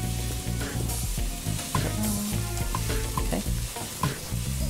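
An omelette stuffed with vegetables fries in a pan, sizzling loudly and steadily with scattered clicks and taps as it is folded and flipped.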